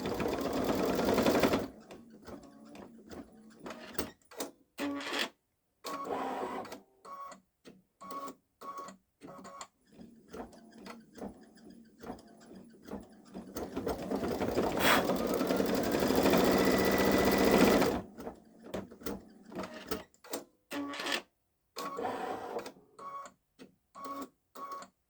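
A Babylock Solaris Vision embroidery machine stitching a Christmas train design runs in a rapid mechanical chatter, with bursts of dense stitching broken by short pauses and stop-start stretches, loud and close throughout.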